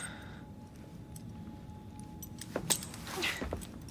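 Keys jingle briefly and metallically near the end as they are handed over in Assassin's Creed Syndicate, following a quiet car-interior ambience and a soft door-like clunk.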